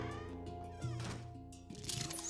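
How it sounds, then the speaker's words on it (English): A cat meows repeatedly in the Luigi's Mansion video game, several drawn-out, wavering meows close and loud over game music. "And there's the cat."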